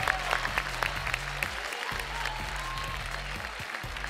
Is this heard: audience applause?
yes